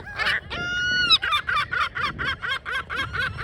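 Gull parent near its chicks in a school yard, giving a harsh drawn-out call followed by a rapid series of loud, nasal honking cries, close and insistent.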